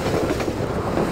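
A train in Half-Life 2 rolls past on the rails, a steady loud rumble with a faint clatter and no talk over it.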